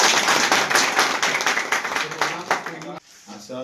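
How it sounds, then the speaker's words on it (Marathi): A crowd claps in sharp, irregular bursts to welcome a young leader joining the Nationalist Congress Party. The clapping stops abruptly after about three seconds, leaving someone talking. "जोरात टाळ्या वाजवा।"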